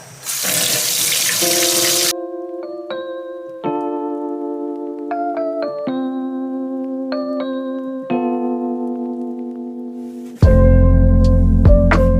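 Sprouting potatoes are rinsed under a running kitchen tap. A rushing stream of water opens the scene, then gives way to clear, music-like tonal notes, and the water gushes again loudly near the end.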